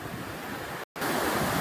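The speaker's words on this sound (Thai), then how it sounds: "นี่ครับน้ำไหลครับพี่น้อง" Water flowing at the Rasi Salai dam in Sisaket province, Thailand: a loud, steady rushing roar with wind buffeting the microphone, briefly cut out for an instant midway.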